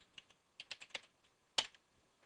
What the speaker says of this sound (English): I'll type in shutdown